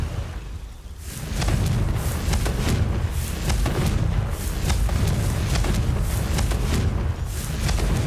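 The Confringo fire spell in Hogwarts Legacy goes off as a continuous run of deep booming fire blasts and thuds. It holds loud and steady for about seven seconds after a brief quieter start.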